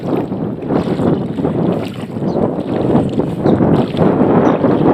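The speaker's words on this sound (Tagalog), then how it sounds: "Malakas ang hangin." Strong wind roars and buffets the microphone steadily and loudly on an island, with a low rumble and no voices.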